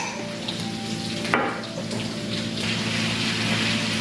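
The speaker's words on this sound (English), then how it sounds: "I just drop some in the oil and frying some without a batter, some of the chicken without a batter" Chicken pieces without batter frying in hot oil, a continuous dense sizzle and crackle with a brief sharp pop, steady throughout and close by.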